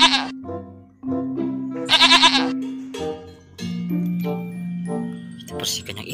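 A goat in the video game Jurassic World Evolution 2 bleats several times in short, loud, wavering calls separated by brief pauses, with other game sounds and ticking in between.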